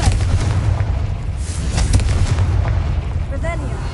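A Confringo fire-blast spell goes off in Hogwarts Legacy: loud, sustained booming rumble with explosive bursts, heavy low end throughout, a spoken voice briefly over it near the end.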